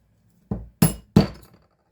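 Three sharp metallic knocks ring out close and loud as a hammer spring is tapped out of a Heritage Rough Rider revolver, followed by the start of a fourth strike; no voices.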